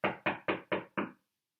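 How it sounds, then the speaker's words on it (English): Five quick, evenly spaced knocks on a wooden door at a cottage in the woods, close and crisp, with no voices. "Goldilocks knocked on the door."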